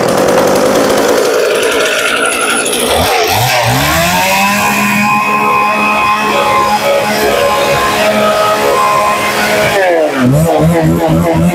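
Used Japanese-market chainsaw, a 38 cc model, running loud and close: a rough idle that revs up to a sustained high whine for several seconds, then drops back and revs again near the end.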